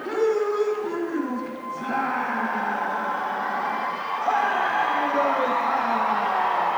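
A crowd at an amateur fight night in Butte cheers and whoops before a 175-pound bout, sustained roaring with rising shouts, and an announcer's amplified voice carries over the noise.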